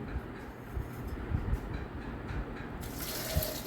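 Soft, continuous trickling and splashing of grape juice poured into a glass, fairly quiet with a slight rise near the end.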